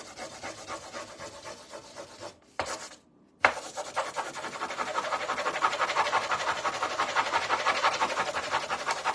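Paint stick rubbed over a spring flower centerpiece craft, giving a steady scratchy rasp close up, with a brief pause and short silence midway before the rubbing resumes louder and continues evenly to the end.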